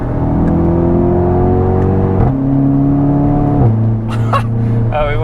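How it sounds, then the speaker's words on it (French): Audi TT fitted with an ABT exhaust, engine note steady and droning with pitch steps as it revs, a loud continuous tone throughout with a brief higher whine near the end. "moi je suis amoureux de cet échappement"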